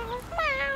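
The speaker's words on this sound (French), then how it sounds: "c'est un tout petit chat." A small cartoon kitten gives one short, thin, rising-and-falling meow, close and clear, lasting under a second.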